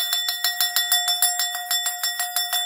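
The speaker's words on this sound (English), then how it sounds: "We're just ringing the bell for the victory, right? Ring the bell for victory." A small bell rung rapidly and steadily, about five bright metallic dings per second, each with a clear ringing tone, close and fairly loud, with no speech over it.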